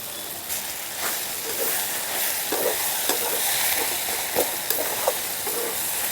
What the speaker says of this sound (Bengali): একটু খুন্তির সাহায্যে থেতো করে নিচ্ছে আলুগুলো